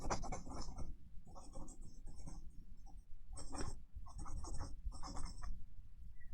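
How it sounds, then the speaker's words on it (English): Pen or pencil writing on paper, recorded close on a binaural microphone: soft scratchy strokes in short bursts with brief pauses between them, quiet and intimate. "let me write that down real quick"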